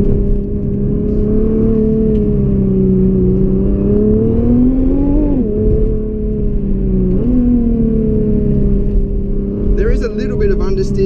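A 2017 Nissan GT-R driven along the Great Ocean Road, its engine a steady, loud hum with rising and falling revs and a couple of gear-change dips, under continuous talking from the driver.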